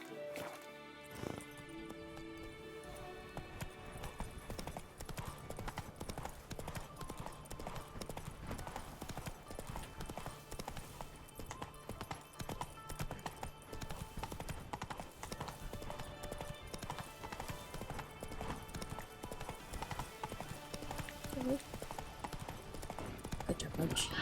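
Horse hooves clip-clop steadily through The Witcher 3: Blood and Wine as the mount walks toward a market, the rhythmic clopping running throughout under game music and someone talking, with a brief whinny.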